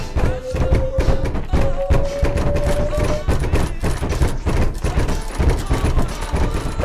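Video game gunfire rattles in rapid bursts and scattered shots with thuds, loud and busy throughout, while a tonal game sound plays briefly and voices talk faintly underneath.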